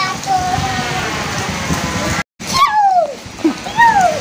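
Rain falls steadily at a family home, a constant close patter that runs throughout, with a brief dropout midway and faint voices and squeaky calls over the top.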